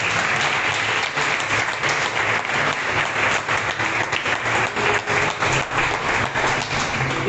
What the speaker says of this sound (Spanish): Dale aplausos.